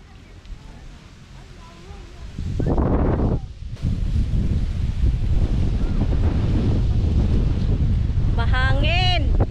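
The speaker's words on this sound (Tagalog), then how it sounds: "Mahangin!" Strong wind buffeting the microphone in loud rumbling gusts, with voices talking over it outdoors during apple picking.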